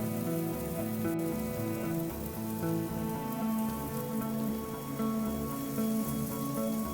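A hot pan sizzles steadily under a thalipeeth flatbread, a dense crackling hiss like rain on a surface that runs without pause, close and moderately loud.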